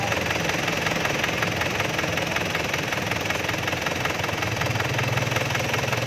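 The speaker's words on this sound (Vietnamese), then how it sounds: "Máy nổ cực chất nha." A 2005 Isuzu Hi-Lander with a 2.5-litre diesel engine idles nearby, giving a steady, loud knocking rumble with an even mechanical rhythm throughout and no voices.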